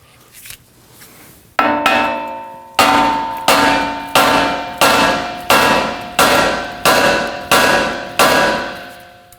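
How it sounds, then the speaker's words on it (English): A hammer strikes the steering knuckle near the ball joint on a 2016-2022 Honda Pilot. Eight loud, evenly spaced metallic blows ring out close up after a brief shuffle, each clang decaying with a bell-like tone. "Now we can strike the knuckle right here by the ball joint to release this."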